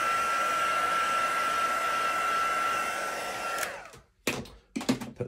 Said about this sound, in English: Put the heat gun away.